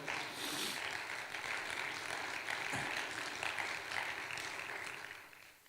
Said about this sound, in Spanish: Démosle un aplauso al Señor, amados hermanos, por favor.